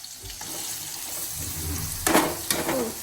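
Onions drop into a hot pan and begin frying, a soft hiss that swells into two sharp bursts of sizzle near the end, close and fairly loud, with no speech.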